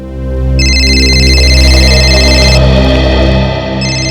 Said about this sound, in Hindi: पूर्वी की मम्मी का फोन